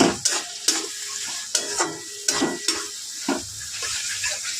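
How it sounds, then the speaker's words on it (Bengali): A spice paste with turmeric, Kashmiri red chilli powder and chopped tomatoes sizzles in a pan while a spatula scrapes and stirs in repeated close strokes. "এবার মশলাটা কষে নেব।"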